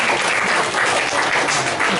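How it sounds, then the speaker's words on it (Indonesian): An audience at an Islamic study gathering claps together in sustained, dense applause, loud and even throughout with no break. "Tepuk tangan untuk kita semua."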